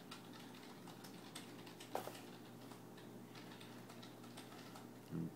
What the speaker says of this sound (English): Getting used to this keyboard.